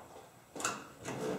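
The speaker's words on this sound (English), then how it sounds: "The scraping noise you're hearing is not me scratching the glass, that's actually me scraping the metal" Tool scraping the metal behind the windshield weather strip on a 1972 Chevrolet K25 pickup, two short, close scraping strokes separated by a brief pause.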